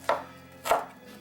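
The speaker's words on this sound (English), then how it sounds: "I'm just going to go ahead and chop the onion across" Two crisp knife chops on a cutting board slicing through a quartered onion, sharp close knocks about half a second apart with no talking.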